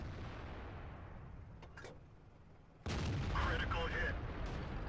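A heavy tank gun fires with a sudden loud boom and rumbling tail during a World of Tanks battle with a Jagdtiger 88, over a low background rumble and earlier faint clanks.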